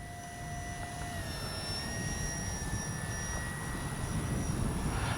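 A small jet engine whines steadily with a shifting high pitch as an FMS PC-21 Pilatus model jet trainer passes on a windy day, over a constant windy rumble.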